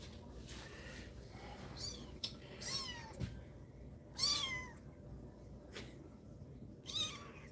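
A kitten under critical care meows repeatedly, with about five or six short, high, rising-and-falling cries spaced a second or so apart. The cries sound close over a low steady background hum.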